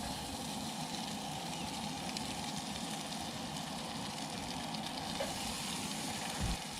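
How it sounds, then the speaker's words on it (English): Three Spam slices fry in a pan on a camp stove at a truck campsite, giving a steady, close, even sizzle throughout with no talk over it. "We're gonna go ahead and fry these up."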